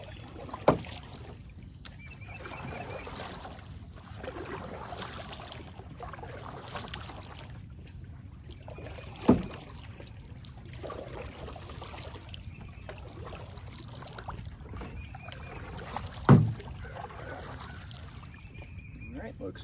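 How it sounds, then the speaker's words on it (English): A boat is paddled through weedy water, with soft watery swishes and a few sharp knocks of the paddle against the hull, close by and otherwise fairly quiet. "We gotta paddle out."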